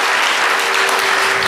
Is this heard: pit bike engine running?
no